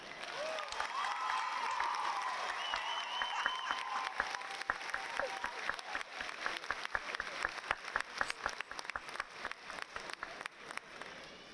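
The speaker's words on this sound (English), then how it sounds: "Let's give him another round of applause." Audience at a Lincoln High School graduation ceremony applauding after a speech, a dense sustained clapping that builds and then thins out into scattered claps, with faint crowd murmur.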